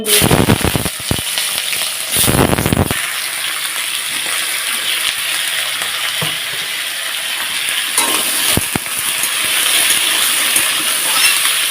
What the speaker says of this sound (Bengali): সবজিগুলো বেশ সুন্দর করে ভেজে নেব লাল লাল করে